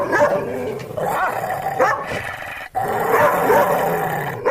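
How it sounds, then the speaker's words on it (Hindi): A dog barks and growls repeatedly close by, a steady, agitated run of barking with one brief break. "टॉमी उन पर भौंकने लगता है।"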